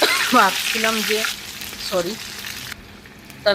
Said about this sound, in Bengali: আর এখানে তেল গরম হয়েছে, মাংসগুলো দিয়ে দিলাম